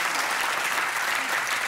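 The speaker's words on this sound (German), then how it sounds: "Ich weiß jetzt nicht, warum Sie da klatschen." A studio audience at a German satirical comedy show bursts into dense, steady applause, loud and close, filling the whole stretch without a break.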